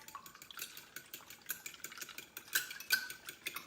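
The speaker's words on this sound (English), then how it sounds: "All right, so we're just gonna mix it up." Fork stirring and clinking in a bowl while chicken nugget ingredients are mixed, with a steady run of small scraping and tapping strokes that peak in a few sharper clinks near the end.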